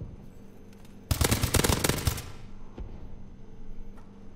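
Rapid automatic gunfire in the video game Call of Duty Advanced Warfare, a dense burst of shots lasting about a second, loud and close, followed by quieter game ambience.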